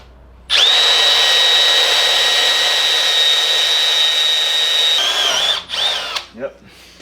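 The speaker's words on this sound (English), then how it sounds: "So we're trying to keep our drilling angle level with like the face of the pad" A power drill bores a 5/32-inch hole in an engine mount pad during a Mazda Miata LS engine swap, whining at a steady, loud, close pitch for about four and a half seconds before slowing and stopping in a couple of short spurts.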